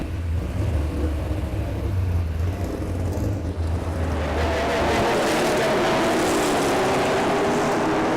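A race car laps a track, its engine a continuous loud roar that swells and shifts in tone partway through as the car comes around.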